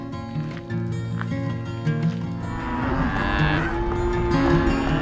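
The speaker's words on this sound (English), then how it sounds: "Cows are really loud because the rancher just weaned the babies off of them" Several cattle, cows just weaned from their calves, moo loudly and repeatedly, long drawn-out calls overlapping against an outdoor background.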